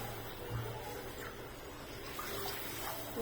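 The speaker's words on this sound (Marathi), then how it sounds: "त्या वाटेने पाणी घ्यायचं तरी दोन वाटे पाणी टाकायचं" Water poured into a pan for mango sheera (ambyacha shira), a steady, soft, continuous gushing stream heard close and fairly quiet.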